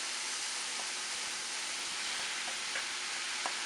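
Tofu stirred back into a hot pan of grilled vegetables, asparagus and mushrooms among them, giving a steady close sizzle with faint scraping taps of a utensil.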